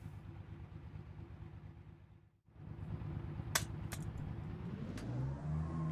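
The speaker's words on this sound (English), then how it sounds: "Powered by a 2 litre air-cooled flat 6 in the rear, producing 130 horsepower." A 1960s Porsche 901 with a 2-litre air-cooled rear flat-six drives along, its engine a steady mid-pitched drone heard from inside, briefly dropping away before rising again as it accelerates, with a few sharp clicks.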